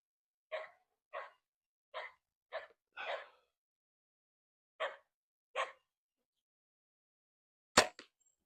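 A neighbor's dog outdoors lets out a string of seven sharp, fairly close barks, first in a quick steady run and then more sparsely, followed by a single crisp snap near the end.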